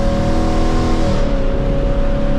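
Engine of a 2024 Mustang GT during a third-gear downshift, a loud steady roar that shifts pitch partway through, heard alone without speech.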